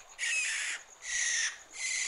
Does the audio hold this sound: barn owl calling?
yes